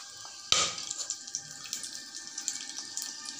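Whole spices for veg pulao (cardamom, cloves, black pepper, star anise pieces, shahjeera, bay leaves) crackle and sizzle in hot oil, opening with a sharp pop followed by a steady, fine spattering hiss.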